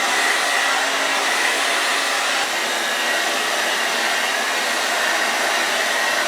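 A hair dryer blows steadily on natural curly hair, a loud, constant whooshing roar that runs unbroken and close up with no talking.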